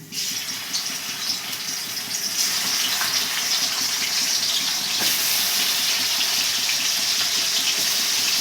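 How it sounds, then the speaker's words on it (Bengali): Chicken pieces frying one by one in hot oil in a kadai over a medium gas flame, a steady broadband sizzle that holds loud and constant throughout, with no talk. "এবার এক এক করে আমি ভেজে নিচ্ছি"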